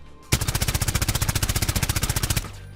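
Automatic rifle fire in the shooter Rainbow Six Siege: one sustained burst of rapid, evenly spaced shots lasting about two seconds, loud and close, with no talk over it.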